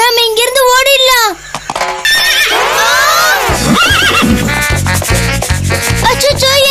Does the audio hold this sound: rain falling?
no